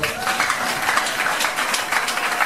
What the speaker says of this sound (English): can you clap for Jesus?